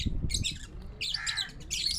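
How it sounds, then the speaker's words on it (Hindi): A captured wild pigeon in Karachi gives rough, hoarse squawking calls in short bursts, close by, with some low rustling underneath. "ये जंगली कबूतर है"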